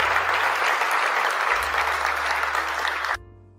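An audience at a TEDx event applauds loudly and steadily, a thick crowd clatter that holds for about three seconds before cutting off abruptly.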